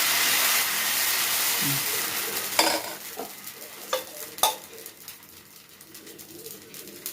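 Pumpkin adai batter sizzles and crackles steadily on a hot pan, loud at first and then fading, with a few sharp clinks and scrapes of utensils and pigeons cooing faintly in the background.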